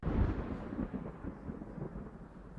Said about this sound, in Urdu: جب بادل گرجتا ہے اور پھر جب لائٹننگ ہوتی ہے یعنی کہ بجلی کڑکتی ہے تو ہمیں اس طرح کی آواز آتی ہے